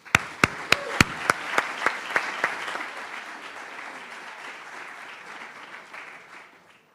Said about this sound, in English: So please give a round of applause to Alan.